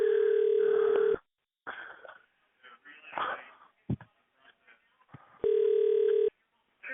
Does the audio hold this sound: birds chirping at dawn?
no